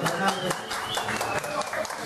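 Audience at a Mexican music performance briefly applauding a performer, a short burst of clapping with crowd noise.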